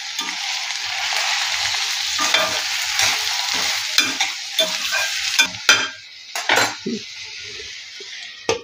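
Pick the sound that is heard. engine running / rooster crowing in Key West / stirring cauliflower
stirring cauliflower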